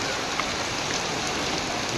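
Heavy rain pours down in a dense, unbroken hiss, loud and steady throughout with no voices.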